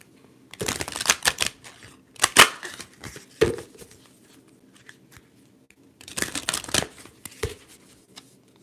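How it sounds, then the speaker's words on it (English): Tarot cards are shuffled in quick riffling bursts, a few crisp flurries separated by short pauses, close and clear with no talking. "so let's shuffle"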